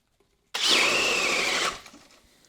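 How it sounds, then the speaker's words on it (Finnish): After a short silence, a cordless drill with a 32 mm bit whirs up sharply and runs at a high, steady whine for about a second before winding down. "kokeillaan sitten tällä poran terällä 32 millinen"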